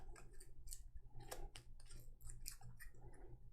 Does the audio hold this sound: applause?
no